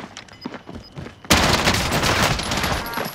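Gunfire from a weapon in the Warzone Rebirth Island video game: a quiet stretch, then a sudden loud burst of rapid shots that keeps going as a dense, sustained barrage to the end.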